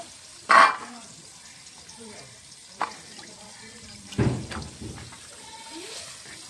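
Cut flat beans are washed in water, with a short splashy burst near the start, a small splash later and a louder swish and slosh toward the end, all faint and close in a quiet kitchen.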